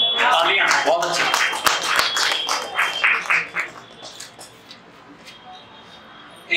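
An audience at an evening poetry recital claps in a burst of loud, rapid applause that gradually thins out and fades to scattered claps.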